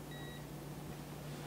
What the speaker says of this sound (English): You'll hear a beep there.